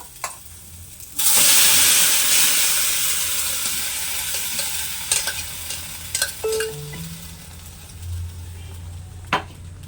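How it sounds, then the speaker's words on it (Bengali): Boiled chana dal tipped into a pan of crushed garlic frying in oil bursts into a loud, bright sizzle that slowly eases off, with occasional clinks of a spoon stirring nearby. "সামান্য একটু ভাজার পর এখানে সেদ্ধ করা ডালটা দিয়ে দেব।"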